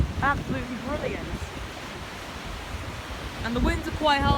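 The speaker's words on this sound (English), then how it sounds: "the winds are quite high, relatively large waves" During Storm Isha on the UK or Irish coast, strong wind and large sea waves make a constant broadband roar and rush, swelling toward the end, with brief voice-like sounds at the start and end.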